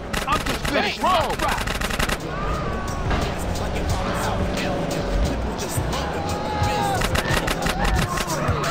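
Bursts of gunfire ring out in GTA San Andreas, rapid machine-gun rattles and sharp repeated shots stacked over engine noise and in-game sounds, loud and close throughout.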